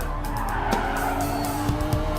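A Lamborghini in a racing video game braking late, tires skidding and squealing over a loud, steady engine roar, close and continuous with a few sharper chirps.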